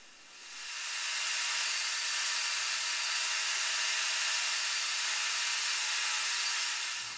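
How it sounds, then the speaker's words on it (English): A bandsaw cuts along the outline of a wooden piece for a Moroccan table, a steady, loud hissing whine that builds in over the first second and holds evenly throughout, with no talking. "it was off to the bandsaw and cutting out the outline of the piece"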